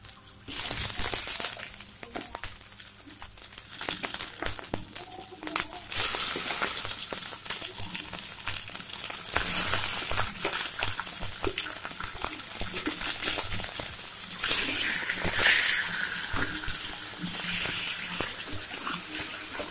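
Chicken fries in a pan for a Dubai-style dry chicken dish, giving a continuous bright crackling sizzle with bursts of louder spitting, steady and close throughout.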